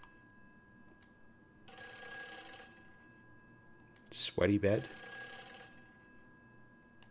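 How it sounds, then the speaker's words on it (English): Telephone ringing in the horror video game Silent Hill 3, an electronic bell ring bursting in moderately loud, followed by a short spoken remark over faint background ambience. "What if I just let the phone ring?"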